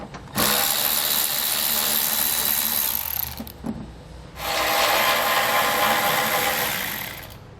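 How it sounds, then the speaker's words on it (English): Power tool whirring in two long sustained bursts with a short pause between, as bolts come out with a 10mm socket while mounting a Roadmaster crossbar-style base plate on a 2004 vehicle frame. "There's going to be 3 bolts you'll have to remove, 2 on the frame and 1 underneath, and we'll use a 10mm socket to do so."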